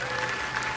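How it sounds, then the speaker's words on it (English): An audience applauds at a convention preview panel in Amsterdam, a brief burst of steady crowd clapping, fairly loud and close. "Let's have a round of applause for that."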